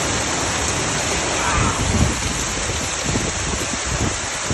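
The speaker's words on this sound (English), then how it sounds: "This is going to be like an inch of rain probably." Heavy rain pours steadily in a dense, loud roar, with no break across the whole stretch.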